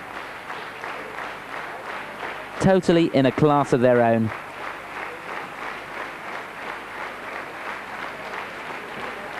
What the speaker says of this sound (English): a standing ovation here from this crowd